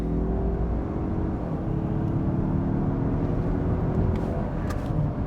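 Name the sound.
Mazda CX-30 Turbo AWD launching hard with front wheel spin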